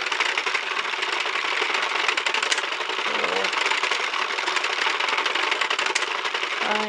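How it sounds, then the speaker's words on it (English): A circular knitting machine is cranked steadily, giving a continuous close mechanical clatter and rattle with rapid repeating clicks, and a brief voice sounds partway through. "I'm going to probably just crank until this screen finishes, which will probably be the next row."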